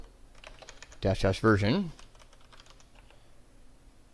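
Typing a command on a Mac computer keyboard: soft, rapid key clicks run faintly throughout, while a voice briefly speaks over them in the middle.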